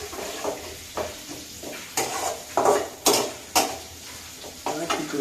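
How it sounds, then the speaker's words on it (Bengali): Paste and chopped green chili fry in a pan for an egg curry, with a steady broadband sizzle broken by sharp spoon scrapes and clinks against the metal at irregular intervals, close and fairly loud with no talking. "তো এটা একটু ভাজি করবো।"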